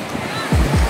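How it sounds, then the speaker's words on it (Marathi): Big ocean waves roll onto Murud beach in Dapoli, a brief rushing surf roar with wind buffeting the microphone. "खूप उचलता लाटा आहेत,"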